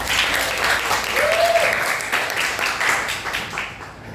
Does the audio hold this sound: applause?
yes